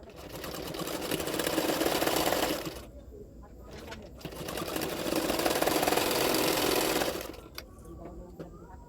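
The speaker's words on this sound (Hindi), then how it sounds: "कटोरी को सिलाई कर लूँगी" Sewing machine stitching the katori cups of a blouse, running in two long steady bursts with a pause between, close and fairly loud with a rapid mechanical whir.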